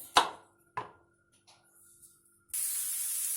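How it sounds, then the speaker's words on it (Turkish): Two sharp knife chops on onions land on a board about half a second apart, followed by quiet handling and then a steady sizzling hiss of onions frying in oil in a pan. "ben bu soğanları doğramaya devam edeyim arkadaşlar."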